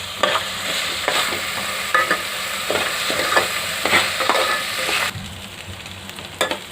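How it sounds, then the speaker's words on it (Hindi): Rice sizzles in a hot pan while being fried for prawn pulao, the steady crackle broken by repeated scraping stirs of a spoon close by. "इस राइस को हम फ्राई कर लेंगे इसमें अच्छी तरह से"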